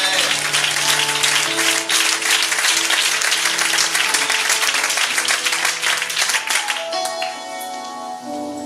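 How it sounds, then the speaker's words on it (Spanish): Loud, dense applause fills a church during a sermon as the congregation claps vigorously, then eases while sustained organ or keyboard tones carry on beneath and after it. "Aplauden,"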